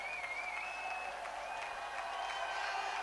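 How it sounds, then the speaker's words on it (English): Spectators applaud a man of the match at a junior football cup final: soft, fairly distant clapping from a crowd, steady and even, carried under open-air background noise. "give him a round of applause there, lads"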